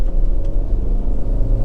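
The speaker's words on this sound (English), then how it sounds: "you get that lovely little snarl from the engine, but it's just muted" Honda Civic 1.4 i-VTEC S-T hatchback engine under acceleration, a steady muted low rumble from inside the cabin with a faint snarl, no talk over it.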